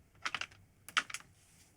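A camera clicking back onto a tripod head, two quick bursts of small plastic-and-metal clicks and taps, close and quiet, separated by a short pause.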